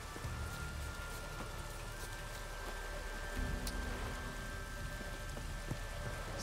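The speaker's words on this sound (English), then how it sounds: "It's raining." Steady rain in The Witcher 3 patters continuously across the whole stretch, a dense hiss of drops with a low rumbling ambience underneath and no talking.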